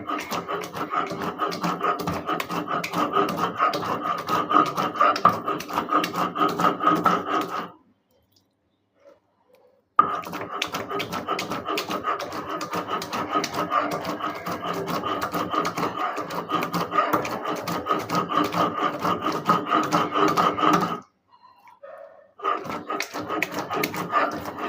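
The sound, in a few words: grinding ingredients for homemade ghee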